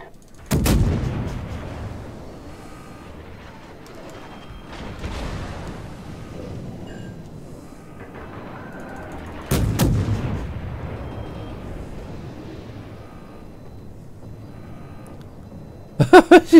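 Heavy guns fire in a video game: a few loud, booming shots spaced several seconds apart, each with a long rumbling decay, and a quick burst of rapid shots at the very end.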